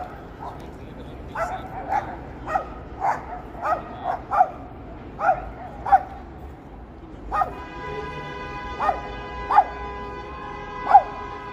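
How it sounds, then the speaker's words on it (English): Two small dogs yap repeatedly on a downtown Toronto street in the St. Lawrence area in the evening, sharp short barks spaced every second or so, fairly near over steady city background hum. "Got a couple of yappy little twin dogs there."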